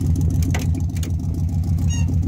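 A 1968 AMC Javelin with its original, never-rebuilt 343 Typhoon V8 and factory 10.25:1 compression idles smoothly, a steady close low rumble with even pulsing and faint clicks, no talk.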